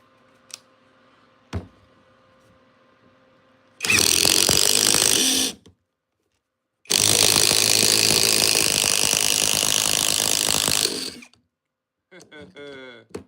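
Orange Crush Mafia impact driver sinking an 8-inch timber lock screw, two loud sustained bursts of hammering impact roughly two and four seconds long separated by a pause, with brief clicks before and a voice speaking afterward.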